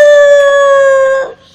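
A voice imitates a mother dog crying for her lost puppy, holding one long, steady, loud howl-like wail that fades out abruptly at the end.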